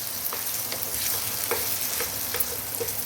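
Tomatoes being stirred into a sizzling Afghani omelette mixture in a hot pan, steady frying hiss with repeated light scraping clicks from the spoon, close and continuous.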